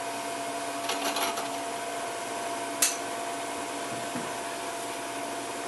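Wood lathe spinning steadily while friction polish is rubbed onto the turning piece, a constant whirring hum with a brief sharp click partway through.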